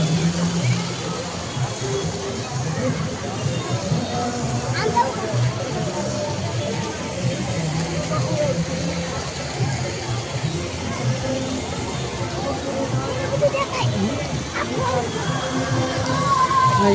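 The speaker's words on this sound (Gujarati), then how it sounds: "પાણી કેવું પડે છે જુઓ તમે." Water falling and splashing, a constant rushing, sloshing wash heard close and fairly loud throughout, with people talking and moving about over it.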